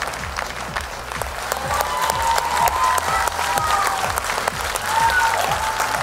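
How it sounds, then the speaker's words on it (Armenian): A studio audience at an X Factor gala applauds a departing contestant, steady loud clapping from many hands with a faint tonal musical line running underneath, continuing for several seconds. "Ձեր ծափահարությունները"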